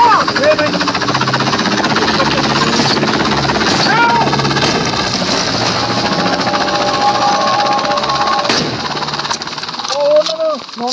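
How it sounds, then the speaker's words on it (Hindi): In the zombie shooter game Into the Dead 2, a helicopter drone runs loud and continuous, mixed with bursts of gunfire and other game effects, while a player talks over it. "हेलीकॉप्टर है।"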